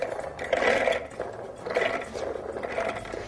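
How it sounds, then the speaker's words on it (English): A food processor whirs and grinds through soaked chickpeas in a kitchen, a steady mid-pitched motor drone with gentle pulsing as the beans churn, heard alone and fairly faint. "You want to start by first blending the chickpeas in a good food processor."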